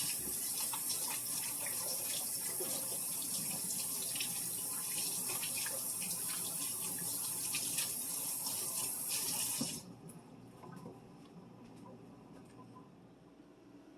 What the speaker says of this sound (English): Give my hands a rinse.